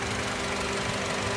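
A 2009 Honda CR-V's 2.4-liter i-VTEC four-cylinder engine idles with a steady, even hum and a faint low rumble underneath. No voices are heard.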